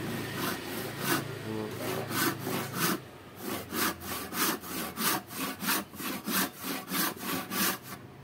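Hand rip saw cutting along the grain of wood for an acoustic guitar neck, with steady rhythmic back-and-forth strokes, each rasping pass clear and close, speeding up slightly after a brief pause.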